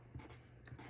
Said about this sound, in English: I'm going to write it nice and big